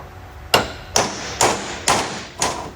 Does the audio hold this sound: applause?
no